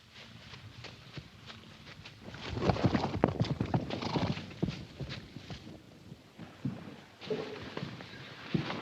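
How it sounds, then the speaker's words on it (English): Horses stampeding in an old wartime film scene, a rush of clip-clopping hooves with neighing, irregular thudding beats growing louder and fading, no talking. "Damn them horses."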